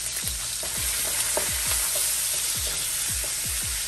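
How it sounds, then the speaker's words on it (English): Seafood fried rice with bacon being stirred in a wok, a loud continuous sizzle with rhythmic scraping strokes of a spatula roughly every half second, close and without talk. "I'm going to give this a stir once again."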